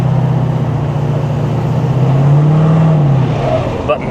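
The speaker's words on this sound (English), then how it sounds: "it's an aggressive sounding truck, isn't it?" A 2011 Chevy 3500 truck, once a SEMA show build, drives along with a loud, aggressive engine drone that holds steady and swells slightly midway, close and continuous with no talking.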